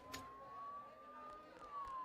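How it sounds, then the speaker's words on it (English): A wailing siren in the video game Persona 4 Golden with a slowly rising and falling tone, fairly faint and distant, sustained across the whole moment with a brief click near the start. "Don't those sirens sound really close?"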